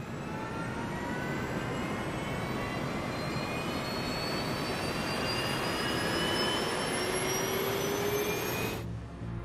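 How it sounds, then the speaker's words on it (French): Steady Boeing 737 jet engine roar from a black box recording, with a rising whine that climbs in pitch throughout as the turbines spool up, then cuts off abruptly at the end. "À partir du bruit des moteurs du vol 90 enregistré par la boîte noire"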